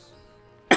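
A single short, sharp cough from a person recovering from illness, abrupt and fairly close after a quiet moment.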